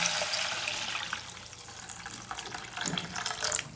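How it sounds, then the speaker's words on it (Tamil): Water is poured into a pot of half-cooked mushroom soup, a close, splashing, gurgling stream that rises and falls for several seconds with no talk. "3 கப் அளவுக்கு நான் தண்ணி சேர்த்துருக்கேன்."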